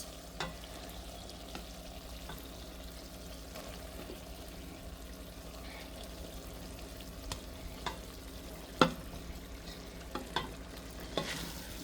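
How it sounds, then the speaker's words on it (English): Cooked rice is added to a chicken stew pot and stirred, with soft scraping strokes and occasional spoon knocks against the pot over a low steady background, close and fairly quiet, with no speech. "So we're gonna start adding the rice in the pot."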